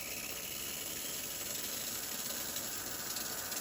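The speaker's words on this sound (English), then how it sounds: "when you turn on the steamer, it takes about 15 seconds to start steaming" The steam wand of a Breville Barista Express BES870BKS espresso machine steams milk for a latte, giving a steady, close, unbroken hiss with a faint mechanical hum underneath and no talking.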